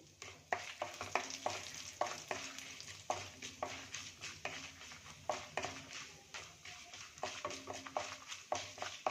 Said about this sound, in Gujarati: એને પણ આપણે બ્રાઉન કલરની સોતળી લેશું